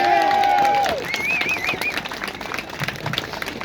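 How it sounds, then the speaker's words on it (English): Audience applause at a gathering in Dublin, a steady wash of clapping heard under a brief whistle and a warbling tone at the start, fading slightly toward the end. "Big round of applause, please."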